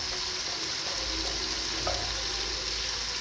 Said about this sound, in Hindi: इन मसालों को अच्छे तरीके से मिक्स कर लेंगे, इनकी भुनाई भी कर लेंगे साथ ही साथ हल्की आँच से